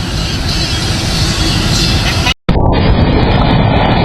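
A massive explosion sends flames bursting violently into the sky, heard as a loud, continuous roaring blast that cuts out abruptly for a moment, then resumes as a dense, steady rumble.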